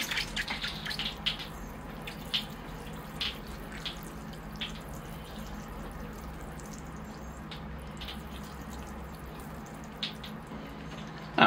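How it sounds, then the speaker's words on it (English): Water trickles and drips steadily into the soil of a bonsai tree, a soft continuous pour with faint splashes, close and without talk. "I'll water that in so it levels it out."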